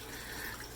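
Water trickles steadily down a vivarium drip wall in a soft, continuous wash with no break, faint and even, with no voices.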